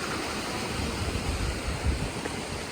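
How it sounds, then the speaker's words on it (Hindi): A mountain waterfall on a Himalayan valley trek rushes in a continuous, dense roar of broadband water noise, loud and close, with no voices. "और यह है झरना"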